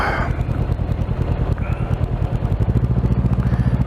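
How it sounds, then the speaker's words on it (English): A motorcycle fitted with an Akrapovic exhaust rides along a road, its engine pulsing in a loud, even, throaty beat that grows stronger toward the end. "Akrapovic exhaust sounds very, very nice."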